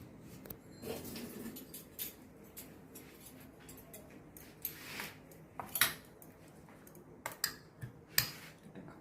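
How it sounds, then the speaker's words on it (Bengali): Metal spoons being washed in a home kitchen give off scattered clinks and scrapes, with a few sharper taps near the end over faint running water and low background hum; no one speaks. "দাঁড়ো চামচগুলো ধুয়ে নিই একটু"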